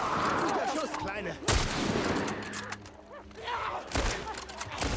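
Gunshots in the survival game The Last of Us Part 1, two sharp, loud shots a couple of seconds apart, separated by game sounds, with people talking throughout.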